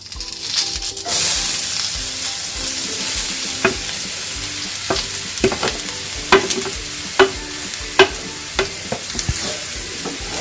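Grated carrots sizzle steadily in a hot pan while a spatula scrapes and stirs in a run of sharp, rhythmic strokes.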